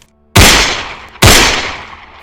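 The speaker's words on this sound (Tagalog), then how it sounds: "Dalawang putok." Two loud gunshots fired near a river, each a sharp crack followed by a long decaying echo, spaced just under a second apart with no other sound.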